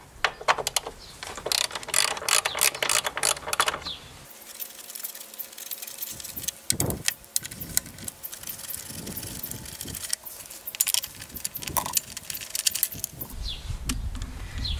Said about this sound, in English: Next thing is to remove the three 3/8 inch bolts right here that hold the plastic dust shield